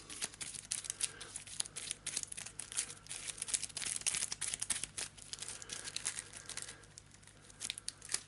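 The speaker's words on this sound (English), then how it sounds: "I have shuffled it, but I'll shuffle it again." An Arkham Horror card game encounter deck being shuffled by hand, a quiet, continuous papery riffling and crinkling with dense rapid clicks, close and soft, with no talk.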